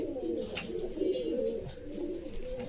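Pigeons cooing in a loft, soft rolling low coos repeating in a steady rhythm, fairly faint and close, with no talking.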